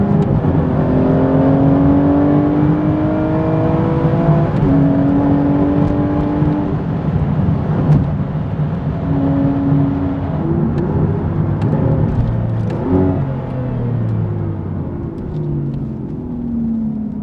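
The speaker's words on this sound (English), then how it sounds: "Flipping up and down the gearbox like that gives a real supercar feeling." Sports car with a Sport Shift gearbox accelerating hard: a loud engine note climbs through several quick gear changes, with the pitch dropping at each shift before rising again, and no voices over it.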